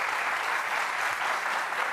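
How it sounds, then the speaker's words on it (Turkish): A studio audience at a televised quiz show applauds steadily as a contestant departs, a dense, even wash of clapping that stays loud throughout. "Sizi alkışlarla uğurluyoruz."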